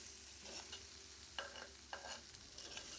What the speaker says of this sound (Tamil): இப்போ காயை நல்லா வந்து வதக்கி விட்டுக்கலாங்க